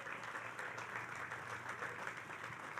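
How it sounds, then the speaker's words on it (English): Steady applause from an audience at a groundbreaking ceremony for the NY Islanders' new arena at Belmont Park, a dense continuous clapping wash held at even loudness throughout. "Let's give them a big round of applause."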